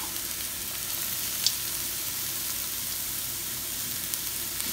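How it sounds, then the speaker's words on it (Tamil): Onions frying in a little oil in a pan, an even, continuous hiss of sizzling with a single faint tap, close and steady with no voices. "கொஞ்சம் ஆயிலை போட்டுட்டு கொஞ்சம் வெங்காயத்தை போடுங்க."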